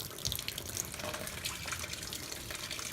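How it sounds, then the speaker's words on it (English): Water and coolant gush out of a K5 Blazer radiator during removal, splashing and pouring steadily onto the ground, partly missing the drain pan, a continuous faint close-up trickle and splatter. "we're gonna go ahead and ditch all the radiator fluid right now"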